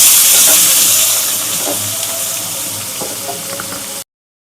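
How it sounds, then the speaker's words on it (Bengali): Minced onions with a little garam masala and bay leaf fry in hot oil, giving a steady loud hiss and sizzle with faint scrapes throughout, fading slightly before stopping. "পেঁয়াজটা এরকম লাল করে ভাজা হয়েছে"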